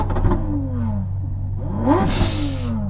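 Lamborghini Aventador SVJ engine revving during a drag race, rising and falling whine with two swelling rev sweeps over a steady low rumble, a sharper burst of roar near the end.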